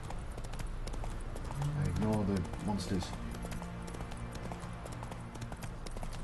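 Rhythmic galloping horse hooves in The Witcher 3 run steadily throughout, with someone speaking briefly over them early on.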